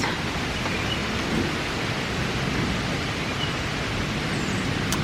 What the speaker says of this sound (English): we're having pretty good rain now. Very loud at times, very windy at times.